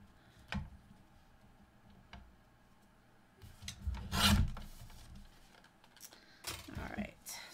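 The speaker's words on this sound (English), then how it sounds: "I'm going to trim this a bit." Paper being trimmed for a handmade mini Valentine book gives off soft rasping and rubbing scrapes with scattered ticks, close and fairly quiet, rising to a louder rub in the middle.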